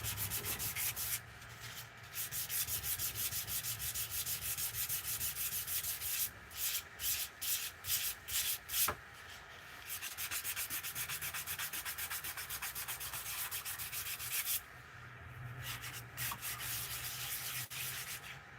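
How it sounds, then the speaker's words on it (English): Hand sanding a carved wood bowl with fine sandpaper of about 180 grit, a continuous close-up rasping rub with a few brief pauses and a burst of short quick strokes in the middle. "This is like fine sandpaper, really. Once you get to 180 grit, it's kind of fine."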